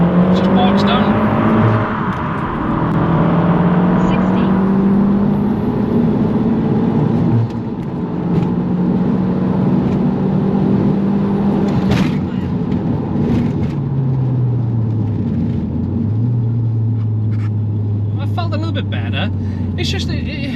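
Audi TT 1.8T engine revving hard under acceleration, with rising tones that drop and sag as it bogs down at each gear change; loud and close with talk over it.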